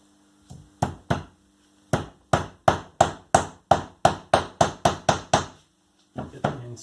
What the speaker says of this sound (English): Now I found I had to replace them by hammering them.